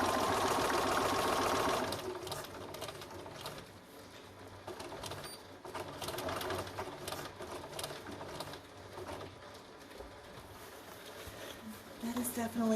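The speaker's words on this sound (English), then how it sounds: "You could zigzag, you can do whatever you want to do to seal this Velcro on there." A sewing machine runs steadily, stitching Velcro onto a fabric belly band. The hum is loudest at the start and continues under a person talking, with faint tapping in the background.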